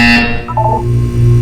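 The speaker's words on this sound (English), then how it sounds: "You will hear a buzzer." A harsh electronic buzzer from the video game Portal 2 sounds alone: a loud, droning tone at first, then shifting to a lower, pulsing buzz that holds to the end.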